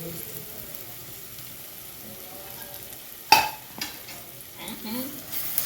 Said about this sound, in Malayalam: അപ്പം നമുക്ക് നന്നായിട്ടൊന്ന് സവാള ഇട്ടിട്ട് വേപ്പില ഇട്ടിട്ട് നമുക്ക് നന്നായിട്ടൊന്ന് വഴറ്റി കൊടുക്കാം